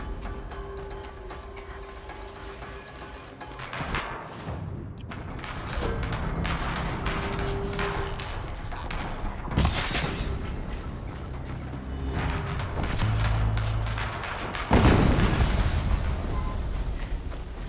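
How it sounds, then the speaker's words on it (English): Explosions in the video game Horizon Zero Dawn Remastered boom and thud repeatedly over a dense, rumbling game soundscape, with sharp loud blasts standing out near the middle and toward the end. "Another explosion."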